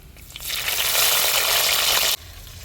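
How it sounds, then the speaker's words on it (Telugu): Chopped red onions tipped into hot oil already seasoned with cumin seeds, bursting into a loud, steady, close sizzle for about two seconds before it drops off abruptly. No one speaks. "తరిగి పెట్టుకున్న ఎర్రగడ్డ ముక్కలు వేస్తున్నా"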